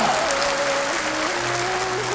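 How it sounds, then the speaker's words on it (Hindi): Sustained audience applause fills a hall at a motivational talk, a steady dense wash of clapping from many hands throughout, with a faint voice briefly audible beneath. "मैं चाहूंगा आप अपने लिए एक बार जबरदस्त तालियां बजा रहे हैं।"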